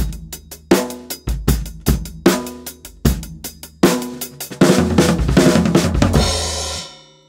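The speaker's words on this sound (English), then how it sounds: "Don't forget that you can use it in a halftime setting as 30-second notes." Drums play a slow, halftime groove with heavy kick and snare hits, then a rapid 32nd-note crossover roll across the toms and cymbals that washes out at the end.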